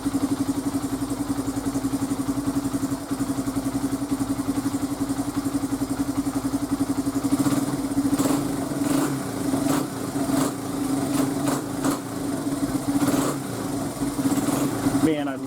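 A 2002 Honda XR100 dirt bike, just given a top end rebuild, idles steadily nearby with an even buzzing putter. Someone talks over the engine in the second half.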